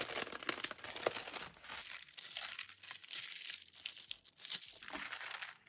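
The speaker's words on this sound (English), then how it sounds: "Oh, that sound of paper is so satisfying." Paper sheet of rub-on transfer letters being handled, crisp crinkling and rustling in irregular bursts, close and fairly quiet, with no voices.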